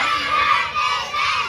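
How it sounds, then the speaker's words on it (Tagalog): A group of children shouts Happy Birthday together in unison at a 9th birthday party, loud and close, a sustained crowd of young voices filling the clip with no break. "Pag sinabi ko pong sigaw, sisigaw nyo, Happy Birthday, Renz."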